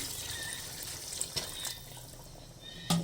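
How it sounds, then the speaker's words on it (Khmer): Water poured into a pot of pork rib and pineapple sour soup, a soft steady trickling and splashing stream close by, with a couple of small clinks and a sharper knock at the end, no talking. "យើងធ្វើការចាក់ ទឹកងាស់សម្រាប់ យើងកុំឲ្យដាក់ច្រើនពេក"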